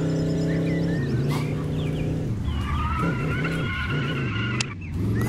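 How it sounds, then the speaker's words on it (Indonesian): A car tumbling over in a video game, with loud engine drone, sliding and skidding tones and a scrape near the end. Rising and falling whines layer over each other across the whole short burst. "Ada mobil yang terbalik-balik di sana."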